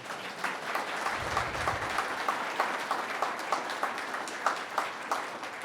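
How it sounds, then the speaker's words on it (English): An audience applauds a speaker at a public talk on zoning and cities, a steady wash of clapping holding for several seconds at moderate level, with no speech over it. "give him a round of applause"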